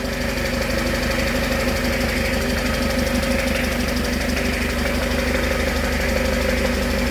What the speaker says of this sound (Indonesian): Dengarkan kestabilan suara mesin